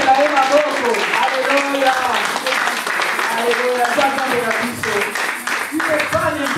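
Church congregation applauding in a steady broadband wash that runs the whole time beneath a preacher's loud, continuous voice.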